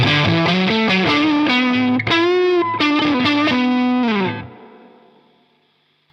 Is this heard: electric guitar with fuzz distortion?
yes